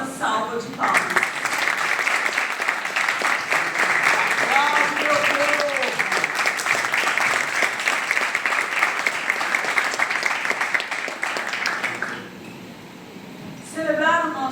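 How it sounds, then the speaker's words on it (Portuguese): An audience at a formal ceremony marking an academy's 17th anniversary gives a warm, sustained round of applause, dense clapping that fills the room for about eleven seconds before fading, with voices briefly audible at the start and end. "A todos eles pedimos uma calorosa salva de palmas"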